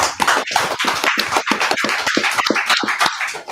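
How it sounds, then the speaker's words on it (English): Clapping for a class at a religious group gathering, with irregular claps forming steady applause from a crowd that stays fairly loud throughout. "Clap it up for the class."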